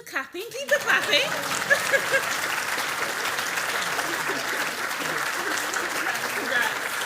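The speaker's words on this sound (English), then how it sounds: "Keep the clapping, keep the clapping." An audience at a lecture claps steadily through an award presentation, a dense, even wash of applause that builds after a quiet start, with a few voices and light chuckles underneath.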